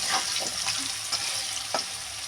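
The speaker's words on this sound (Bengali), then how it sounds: "এবার ভালো করে নাড়িয়ে চাড়িয়ে এটা একটু ভেজে নেবো" Vegetables seasoned with turmeric and salt fry in a pan over low gas. A steady close sizzle runs throughout, broken by a few scraping stirs of a spoon, with no talking.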